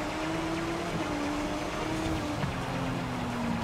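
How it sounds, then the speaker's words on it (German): Steady rain hissing in stormy weather while driving in the racing game Forza Horizon 5, a constant wash of falling water with a low engine drone underneath and no voices. "Dass es dauernd regnet oder sogar stürmt,"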